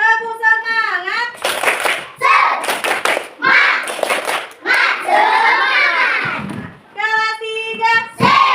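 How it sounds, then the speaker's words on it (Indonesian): A third-grade classroom doing a rhythmic spirit clap, with bursts of claps in patterned beats alternating with children's loud chanted voices, close and energetic. "Sekarang ibu mau semangatnya lagi ya. Masih semangat? Masih. Tepuk semangat."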